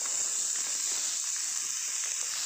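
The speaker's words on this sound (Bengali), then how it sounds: "চারাপোনাগুলোকে ভেজে নিচ্ছি" Small rohu fish, salted and coated with turmeric, frying in hot oil in a wok: a loud, steady sizzling hiss, close and continuous throughout with no break, no voices.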